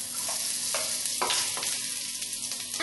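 Ginger slices go into hot oil with spluttering mustard seeds, raising a loud, dense sizzle with crackling bursts and faint stirring scrapes close at hand.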